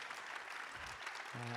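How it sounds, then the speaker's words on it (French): Brief, faint applause from a congress audience, a soft patter of clapping lasting barely a second and a half, with a voice beginning to speak over it at the close. "oui, on peut les applaudir"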